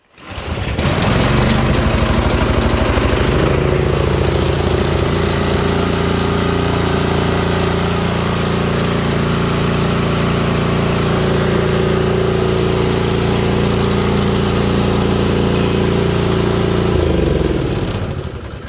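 A Toro 621e single-stage snowblower engine catches on one pull and runs at a loud, steady roar close by, then winds down at the end.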